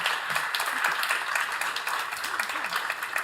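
An audience at a school board work session claps and cheers in a steady, dense wash of applause, moderately distant, with voices talking over it throughout.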